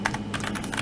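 Fingers type quickly on a computer keyboard, giving a brisk run of light, close key clicks with no voices.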